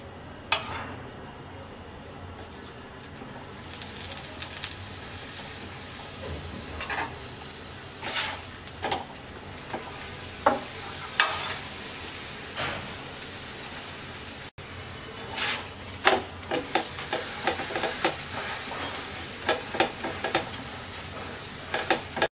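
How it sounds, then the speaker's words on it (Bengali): A paratha fries in oil on a hot tawa with a low, steady sizzle, broken by scattered scrapes, taps and metallic clinks of a spatula against the pan that grow busier toward the end. "এবার আমরা পরোটা দিয়ে দিচ্ছি। 2 পাশে হালকা ছেঁকে তারপর আমরা তেল দিয়ে দিব"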